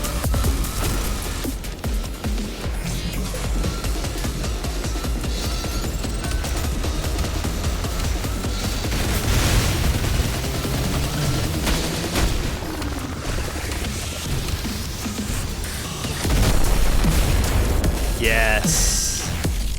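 Dense game combat in Ultrakill with a volley of frozen rockets released at once, a continuous wash of blasts and booms throughout, swelling louder near the end.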